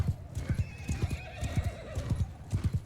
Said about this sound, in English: It does seem like this horse is running slower, though, than normal.